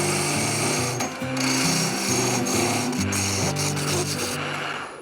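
Wood lathe turning a tenon on a wooden pepper mill blank, a steady loud scraping and rasping of the tool against spinning wood over a droning motor hum, close and continuous with no talk.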